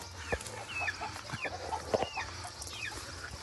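Several chickens cluck and chatter nearby in a henhouse in uneven bursts, with a soft steady hum of the surroundings beneath them.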